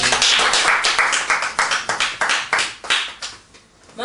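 A congregation clapping together in a church service, sharp rhythmic claps in a loud, fairly steady beat that slows and thins out toward the end, with no talking.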